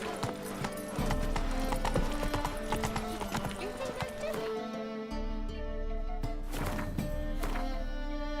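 Hooves clip-clop rapidly in an uneven rhythm as a horse is urged into a gallop, with a whinny and a voice heard over the hoofbeats.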